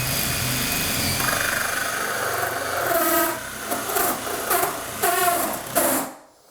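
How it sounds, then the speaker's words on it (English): A power drill bores a hole in a wooden door being fitted into an old frame, giving a loud, close grinding rasp that pulses as the bit bites, then winds down to silence. "So now we're going to drill a hole."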